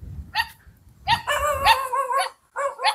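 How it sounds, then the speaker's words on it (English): Dogs bark near a resort hotel in a Kenyan village on the shore of Lake Victoria, in a few sharp bursts with short gaps between them, close by and fairly loud. "The dogs are here barking at me."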